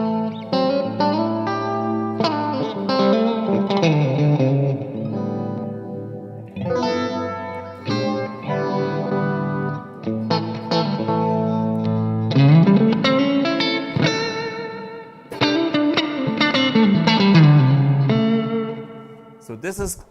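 An electric guitar played through a 1964 Fender Super Reverb amp into a Marshall cabinet rings out in chords and single-note phrases with sustained tones and slides, loud and close, with pauses between passages.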